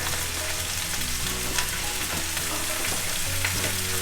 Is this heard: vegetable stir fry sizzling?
yes